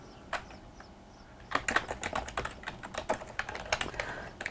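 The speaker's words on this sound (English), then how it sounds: "Type in what you want." Quick, light keystrokes on a computer keyboard, with a few isolated taps followed by a steady burst of close, irregular clicking and no voices.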